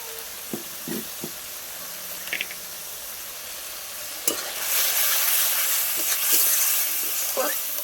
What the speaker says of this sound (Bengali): দেখো ওই মশলার সাথে দিয়ে দেবো হলুদ গুঁড়ো, ঝাল লঙ্কার গুঁড়ো, পরিমাণ মতো নুন আর লাল লঙ্কার গুঁড়ো